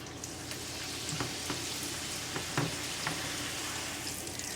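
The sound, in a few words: tortillas frying in oil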